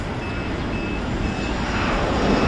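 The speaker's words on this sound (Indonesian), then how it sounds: "Tuh, ada pesawat." Airplane passing overhead, a loud steady broadband engine roar filling the whole stretch with a faint high tone, no voices.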